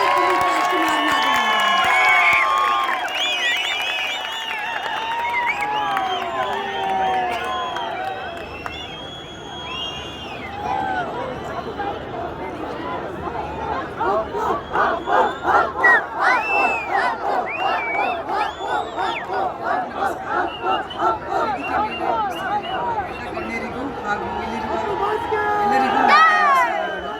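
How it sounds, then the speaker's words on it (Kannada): A large crowd at the Yuva Dasara festival stage in Mysuru claps and cheers to welcome a guest, a swelling roar of applause and shouts with rhythmic clapping in the middle, under a loud amplified announcer's voice. "ಆ ಚಪ್ಪಾಳೆಯ ಧ್ವನಿಯೊಂದಿಗೆ ಈ ವೇದಿಕೆ ಮೇಲೆ ಬರಮಾಡ್ಕೊಳ್ಳೋಣ"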